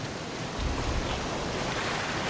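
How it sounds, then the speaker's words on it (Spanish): Large waves on an Amazon river rush in a loud, continuous broadband roar of churning water, nearby and steady for the whole stretch with a slight swell partway through, with no voices. "Casi inmediatamente cruzamos una serie de olas grandes."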